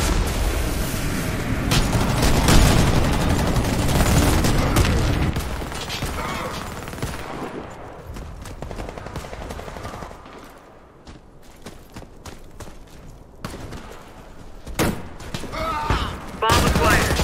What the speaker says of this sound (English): Bomb drop.